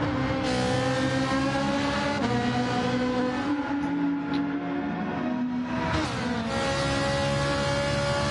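A Gr3 race car in a racing video game sweeps down through Forest Elbow at Bathurst, its engine droning with steady harmonic tones and shifting pitch through gear changes, loud and continuous with no talk.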